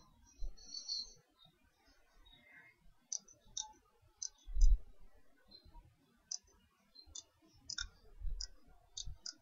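Faint left-button double-clicks on a computer mouse in a quiet room, a handful of soft, crisp click pairs spaced out over several seconds.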